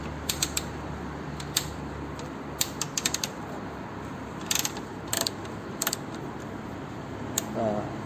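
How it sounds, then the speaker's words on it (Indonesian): A Crossman ring ratchet wrench clicks in quick irregular bursts as a bolt is worked, the sharp, close ratchet ticks separated by short pauses over a steady low background hum. "sama juga fungsi ratchetnya, jadi harus dipegangin karena terlalu keras ya"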